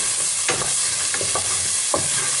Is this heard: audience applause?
no